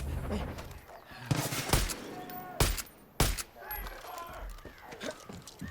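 A mounted gun fires in Far Cry 5, sounding as a few sharp, loud bursts spaced a second or so apart under a talking voice and a steady game background.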